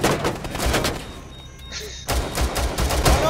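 Rapid gunfire from the video game Rainbow Six Siege comes in loud, dense bursts at the start, drops out briefly, then resumes as sustained shooting for the last second or so.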